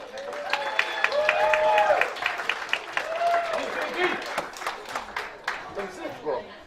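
Thin, scattered applause from a comedy club audience, rising and fading over several seconds, with a host's voice and some chatter over the clapping.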